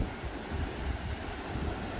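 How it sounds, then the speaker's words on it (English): Ocean surf rolls in continuously at a rocky coastline in Onrus, Hermanus, a broad rushing wash of breaking waves mixed with wind buffeting the microphone. "Some really nice waves as well."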